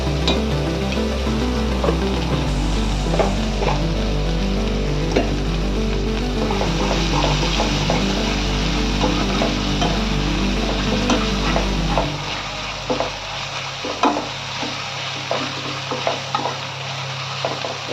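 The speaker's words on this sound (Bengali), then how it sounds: "এবার এটাকে ভালো করে আগে ভাজবো" Ginger-garlic paste fries and is stirred in a pan for a cauliflower and rui fish curry, giving a steady loud sizzle with repeated scraping strokes throughout and no talking.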